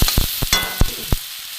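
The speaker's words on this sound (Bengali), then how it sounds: "নুন হলুদ একটুখানি ভালো করে ভেজে নেব।" Salt and turmeric frying in a pan for a vegetarian potol (pointed gourd) dish, heard as a steady close sizzle broken by several sharp stirring scrapes, with no talking.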